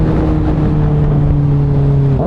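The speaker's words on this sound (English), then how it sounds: "This is my favorite part. Just downshifting." A 2024 Kawasaki ZX6R downshifting on a freeway gives a loud, close engine drone with steady tones that shift pitch near the end, under strong wind rush.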